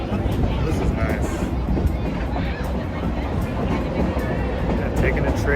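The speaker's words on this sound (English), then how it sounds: "taking a train here in Sacramento" A 100-year-old historic train runs in Old Town Sacramento, a continuous loud rumbling and rattling roll from onboard, with voices chatting over it throughout.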